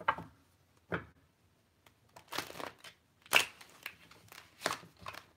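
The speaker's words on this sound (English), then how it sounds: "These cards don't want to shuffle that way no more." Sparse bursts of tarot card shuffling and riffling, quiet and close, with short pauses between each flurry.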